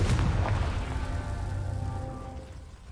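Confringo spell explosion in Hogwarts Legacy, a loud low boom that rumbles and fades over a few seconds.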